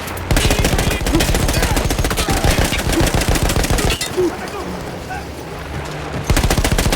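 Machine gun fire in the video game Battlefield 1: loud, close, rapid automatic bursts that rattle on continuously, ease briefly midway, then return at full force.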